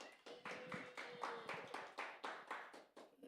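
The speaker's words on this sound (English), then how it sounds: "Another round of applause for Jennilicious." Even, rhythmic clapping at a stand-up comedy show, about a dozen crisp claps in a steady beat, like a small group applauding.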